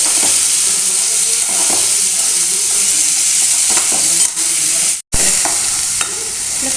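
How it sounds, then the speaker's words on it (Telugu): Boiled chickpeas stirred and frying in a pan, a loud continuous sizzle with scraping stirs and a brief cut in the middle, no voices. "ఉడకబెట్టుకున్న శనగలను వేసుకున్నాం ఫ్రెండ్స్. వేసుకొని కలుపుకున్నాం."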